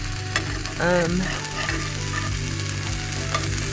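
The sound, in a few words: onions and bell pepper sizzling in skillet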